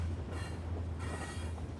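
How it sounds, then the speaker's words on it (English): Freight train rolling past in a heavily polluted industrial neighborhood, a loud continuous rumble with a low drone, grinding wheel noise and faint metallic squeal, close and steady throughout. "Trains could usually run for about, 5 minutes sometimes if they're fast, but this one has been going on for about 2 minutes"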